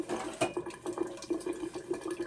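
Water drains from a home water heater tank, a faint pulsing gurgle with regular splashy beats repeating several times a second.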